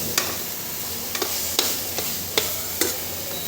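Salt is stirred into pav bhaji gravy over a steady low sizzle, and a spoon scrapes and taps against the pan at roughly even intervals, about six distinct knocks close by with no voice.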